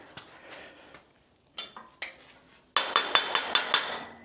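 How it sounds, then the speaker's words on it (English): A hammer taps a metal tube into place in a run of sharp, ringing strikes. A few are scattered early, then a steady series of louder hits close by. "We'll tap it in with a hammer."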